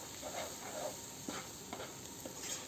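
Noodles with a splash of soy sauce being stirred and mixed in a pan, with a soft, quiet sizzle and a few light scraping touches of the utensil.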